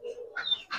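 Giribaz silver lalpatti pigeon, an old-breed tumbler, giving a brief soft coo with a short rising chirpy note, faint and close, alone without talk.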